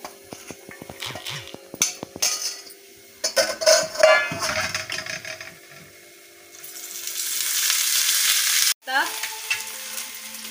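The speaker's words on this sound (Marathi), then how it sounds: "तेलात तळून घेऊ" Chopped onion, garlic and grated coconut frying in oil: sharp clatters of ingredients and utensils hitting the pan, then a loud, close, hissing sizzle that swells and holds, briefly cut before resuming with stirring.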